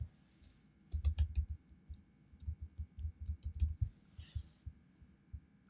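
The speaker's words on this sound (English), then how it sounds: "Let's type in his name." Computer keyboard typing a name, a quick run of soft close keystrokes and clicks, fairly quiet, with no voices.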